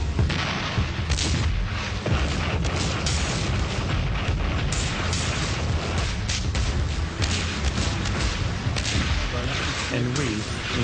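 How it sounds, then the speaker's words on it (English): Artillery shells fall and explode in a continuous barrage of heavy booms and thuds, dense and loud throughout, with repeated blasts overlapping one another near and far. "The artillery started falling on Hoshnia."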